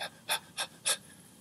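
A storyteller's voice imitates a dog panting, with four quick, breathy huffs close to the microphone and evenly spaced, followed by a brief quiet.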